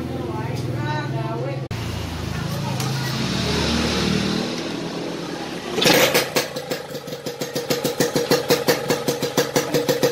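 A Yamaha RX King two-stroke motorcycle with an aftermarket Taland or RTHC cylinder block, unported, starts up, revs sharply, then settles into a loud, close, pulsing idle.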